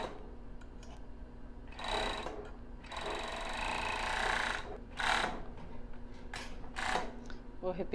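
A straight-stitch sewing machine runs in several short bursts while stitching lace underwear, the steady mechanical whir rising and stopping between pauses, with a person talking quietly underneath.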